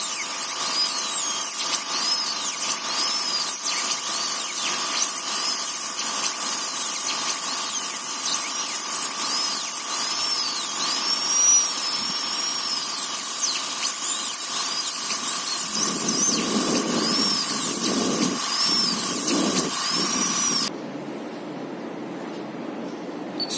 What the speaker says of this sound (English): Oh, the compressor start हो गया।